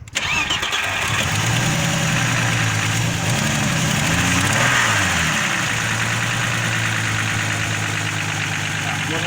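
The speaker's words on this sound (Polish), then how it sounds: "te silniki nie lubią takiego krótkotrwałego odpalenia uruchomienia" A cold 1992 Audi 80 Coupe V6 starts up with a quick crank and catch, then settles into a loud, steady, close-up idle that runs for the rest of the clip.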